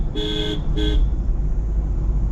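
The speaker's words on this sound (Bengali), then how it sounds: "আমরা হর্ন দিয়ে যাচ্ছি, কেউ আসছে না" A car horn gives two short, bright toots in quick succession on a winding mountain road in Uttarakhand, followed by the steady hum of the moving vehicle.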